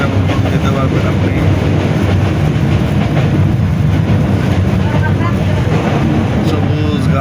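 A Sylhet to Dhaka passenger train rumbles along at speed, a loud continuous roar of wheels and carriage noise with faint rhythmic clatter and wind buffeting, heard from inside the coach.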